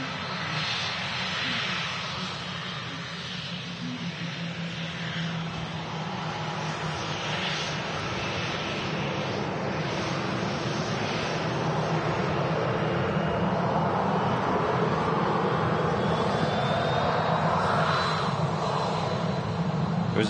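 A Finnair Embraer jet on its takeoff roll at Manchester Airport, a broad, steady engine roar that stays loud and rises slightly throughout, heard from a distance with no talk.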